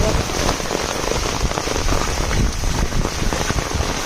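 Heavy monsoon-style downpour pours steadily, a dense, loud, unbroken hiss of rain hitting surfaces close by, with no talking.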